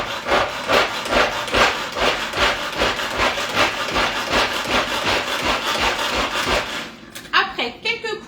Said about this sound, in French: Je vais venir tout simplement le hacher. Attention, ça fera un petit peu de bruit.